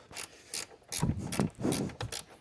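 Short, quiet clicking and scraping strokes come from a wrench slowly turning a long bolt during a K&N Typhoon cold air intake install on an S650 Mustang, with several separate ratcheting pulses heard close up.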